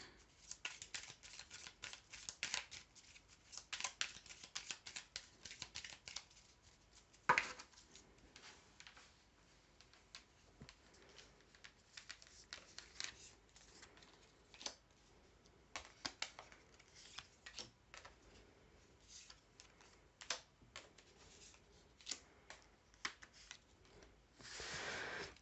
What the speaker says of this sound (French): Allez, je remélange.